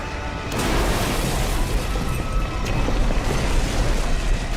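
Explosion in the Halo 3 video game, a loud sustained rumbling blast that starts about half a second in and roars on for several seconds with a dense low-end wash.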